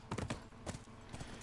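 Horse hooves clip-clop in The Last of Us Remastered in a short burst of quick, muffled hits against a steady background hum.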